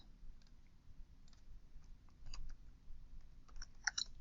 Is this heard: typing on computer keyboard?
yes